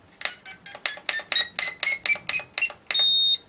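A rapid series of about a dozen short electronic beeps from a drone controller's trim, their pitch stepping gradually lower, ending in one longer sustained tone.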